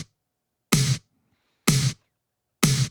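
Three short, tight snare drum hits from a trimmed Cashmere sample, evenly spaced with crisp attacks and abrupt cutoffs separated by silence.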